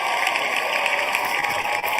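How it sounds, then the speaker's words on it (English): Dense applause mixed with crowd cheering during a live show, a steady wash of clapping and voices held at an even level through the whole stretch. "You gotta applaud."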